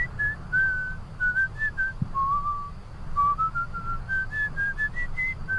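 Melodic whistling in the Roblox video game, a clear tune of sustained and sliding notes running steadily through the whole stretch over a low background hum.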